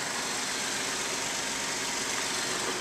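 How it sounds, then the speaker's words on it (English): A 2012 Ford F-150 SuperCrew Lariat engine running smoothly at idle, a steady, even hum with a constant broadband rumble and no revving, heard close and alone. "This Ford sounds great and it runs very smooth."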